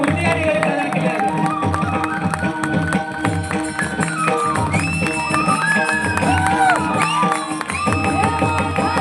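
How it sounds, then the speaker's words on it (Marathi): A large crowd applauds and cheers at a felicitation ceremony honouring a folk singer (shahir), where an idol of Mauli is presented. The dense, sustained clapping and cheering stays loud throughout, mixed with music. "एकदा जोरदार टाळ्या"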